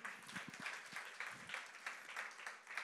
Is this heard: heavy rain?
no